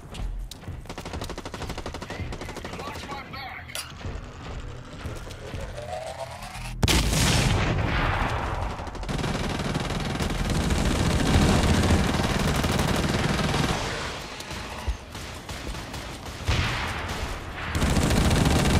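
Heavy automatic gunfire in the online shooter Blacklight Retribution, loud and dense bursts with booming impacts filling most of the stretch, briefly quieter early on then sustained rapid fire.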